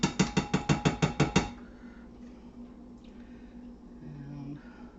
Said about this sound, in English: we're going to take our 20-ounce can of pineapple tidbits and we're going to pour that